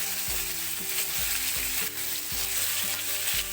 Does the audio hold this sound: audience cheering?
no